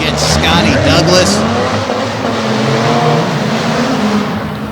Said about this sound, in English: On the line right now, your third place race, Tanner Grove against Scotty Douglas